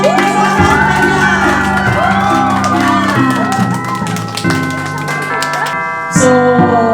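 Loud cheering, whoops and clapping from a crowd at a 2021 Christmas party, a sustained roar layered over music with steady tones throughout.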